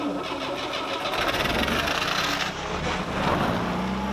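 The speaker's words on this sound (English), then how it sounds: "I thought the best way to get it out was to start the car in reverse and with the clutch not pressed in" A 1985 Pontiac Fiero 2M4 cranked and fired while left in reverse gear with the clutch out, its mid-pitched engine catching and revving unevenly, close and loud for a few seconds.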